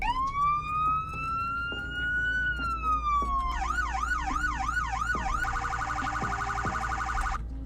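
A sheriff car siren in the video game Greenville wails in a long rising tone, then switches to a rapid yelping pattern and a fast warbling phase, loud and continuous.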